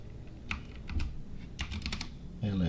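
Computer keyboard typing while working in SketchUp on a drawing page, a few scattered close key clicks followed by a firmer Enter press at the end, with no talking.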